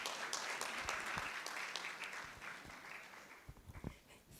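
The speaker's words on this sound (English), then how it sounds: "Please, let's welcome her with a round of applause." Audience applause in a hall at a postgraduate conference welcoming a reverend to the podium, a sustained wash of clapping that gradually thins, heard from a distance and fairly faint.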